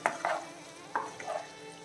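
Pepper chicken being stirred in a pan, with a few short scraping strokes and a soft sizzle underneath, close and fairly quiet, no voices.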